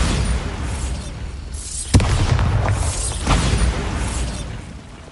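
A Bombarda spell explosion in Hogwarts Legacy, a dense roaring burst with a sharp crack near the middle, swelling and fading over a steady rumbling game background.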